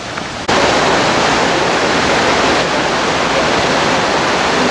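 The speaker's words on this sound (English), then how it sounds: "we can hear the rushing of the water here the minute we get out of the car" Chasm Falls waterfall in Colorado roars with dense, steady rushing water that swells up abruptly after half a second and holds loud and constant, close by and without voices.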